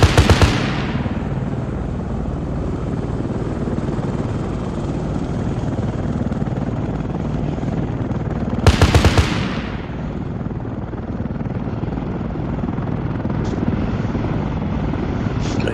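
A single loud shot rings out in the Arma 3 military game over a constant, heavy engine-like drone, with a sharp burst near the start and another midway, no voices.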